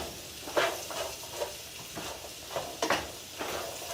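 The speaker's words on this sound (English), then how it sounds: "And I'm going to stir everything up a little bit" Sweet potatoes fry in oil in a pan while a utensil stirs them, soft scraping strokes recurring every half second or so over a low steady sizzle.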